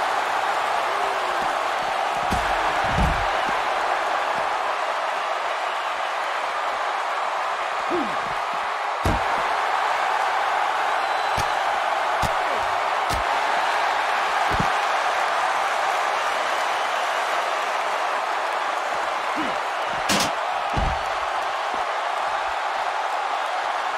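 A large virtual arena crowd roars in the WWE 2K19 wrestling video game, a sustained loud murmur of cheering with scattered sharp thuds and slams throughout, no talk over it.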